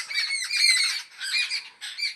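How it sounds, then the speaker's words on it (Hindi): Several birds squawk loudly and close by in the early morning in a village, harsh bursts coming in three quick clusters with brief gaps between them. "चिड़ियाओं का शोर"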